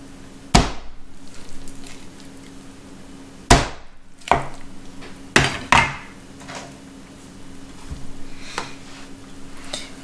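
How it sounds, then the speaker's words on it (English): A knife cleaving cooked ginger chicken in half on a cutting board, several sharp, hard chops spaced seconds apart with a couple of quick double strikes, close and distinct against a quiet kitchen hum. "So I'm just gonna chop this piece in half."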